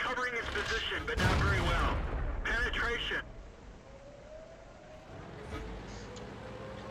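Tank cannon fire from a KV-1 heavy tank in the World of Tanks video game, with loud booming shots in the first three seconds followed by a lower engine rumble and faint in-game tones.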